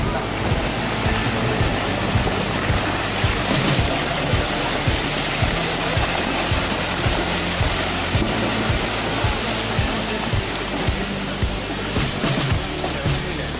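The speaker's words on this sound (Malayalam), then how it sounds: "വെള്ളം വരുന്നേ ഉള്ളൂ ഇതാ നേരെ വരുന്നേ ഉള്ളൂ" Loud, continuous roar of rushing floodwater during a landslide, a dense torrent sustained throughout with no letup, with voices shouting faintly beneath the din.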